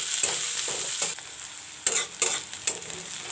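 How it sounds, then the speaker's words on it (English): Onions and chilies frying in hot oil, a bright close sizzle punctuated by several distinct scraping stirs and spatters. "I'll put in the onion and the chilies."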